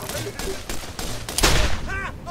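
Several rapid Borderlands gunshots crack in quick succession, with some muffled talk mixed in.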